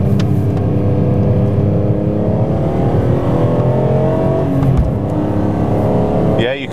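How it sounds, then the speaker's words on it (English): Loud, continuous engine and intake roar from a BMW E46 M3 being driven through corners, with the pitch rising and falling as the car accelerates. "you hear that intake noise in this car. That intake noise is great."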